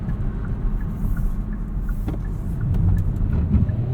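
A 2020 Kia Soul X-Line with its 2-liter engine pulls under acceleration, a steady low rumble from inside the cabin that swells slightly toward the end, with no talk.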